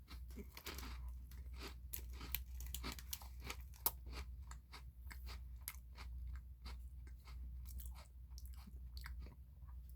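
Someone bites and chews a crisp, sweet Grace cookie up close, giving a rapid series of sharp crunches over a low steady hum, with no talking.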